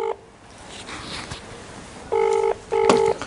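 An outgoing phone call produces a ringback tone: two short, clear tonal bursts with a brief gap between them, after a faint hum.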